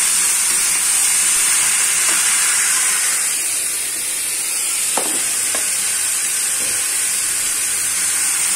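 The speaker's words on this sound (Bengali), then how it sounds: "তো এবার আমি আলু বেগুনটা কেটে রাখা সেটা দিয়ে দিলাম।" Potato and eggplant pieces frying in hot oil give a loud, constant, close hissing sizzle with a few sharp clacks of stirring near the middle, no talk.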